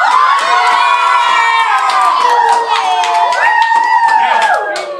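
A classroom of students imitates a cheering crowd at an Aztec pyramid sacrifice, giving a steady, loud wash of shouts, whoops and rising cries that fills the whole stretch without pause.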